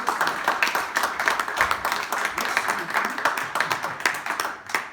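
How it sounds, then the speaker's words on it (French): An audience applauds in a steady, dense wash of clapping that lasts throughout, honouring the outgoing bâtonnier at a bar association ceremony handing over the bâton. "je vous propose d'applaudir notre bâtonnier"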